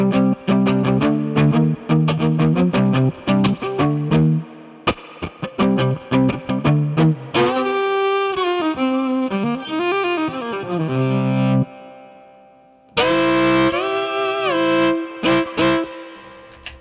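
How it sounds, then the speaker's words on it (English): Bowed stereo violin playing through bass amplifiers, the notes sustained and swelling with a lingering reverb tail, some short plucked or clipped passages, loud and close. "Let's bring in a little more of that reverb,"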